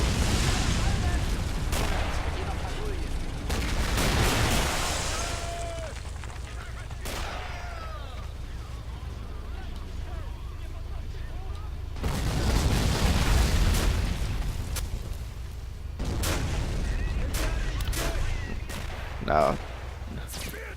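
Half-track machine gun bursts and artillery blasts ring out in a Men of War: Assault Squad 2 battle, loud bursts clustered near the start and middle with quieter stretches between, and a brief voice speaks.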